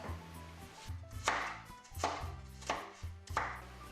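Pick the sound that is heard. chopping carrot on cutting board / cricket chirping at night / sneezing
chopping carrot on cutting board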